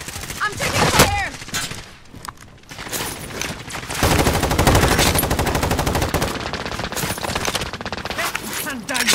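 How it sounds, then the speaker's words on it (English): Rapid automatic gunfire and bursts of shots fill a Call of Duty: Modern Warfare match, loud and close, with game voices and radio chatter heard alongside the firing. "I'm taking fire."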